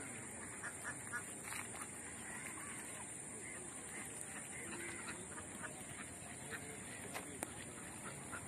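Ducks quack repeatedly beside a green paddy field, scattered calls over a steady outdoor ambience with a constant high insect-like whine.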